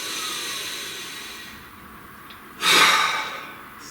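A single deep breath drawn in and let out during a guided meditation, starting as soft airy hiss after a quiet stretch, then swelling into a loud, close exhale that fades away.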